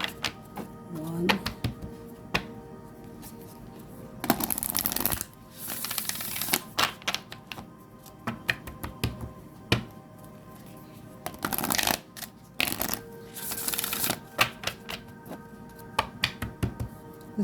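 A star seed oracle card deck is shuffled in repeated bursts of crisp riffling and flicking, with brief pauses between rounds, close up and with no talk.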